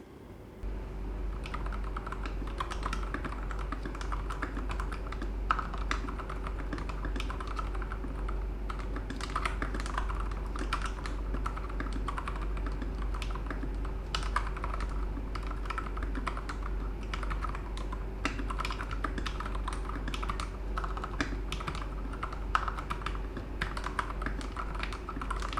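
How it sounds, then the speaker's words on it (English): Steady, quiet typing on a Nuphy Air75 low-profile keyboard fitted with Japanese keycaps, a soft continuous patter of keystrokes over a constant low hum. "I like the way the Japanese keycaps sound. It's very quiet."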